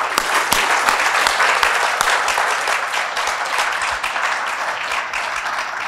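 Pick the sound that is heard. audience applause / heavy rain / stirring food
audience applause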